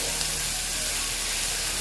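Potatoes and onions frying in oil in a pan, a steady broadband sizzle with a constant hiss and no talk over it.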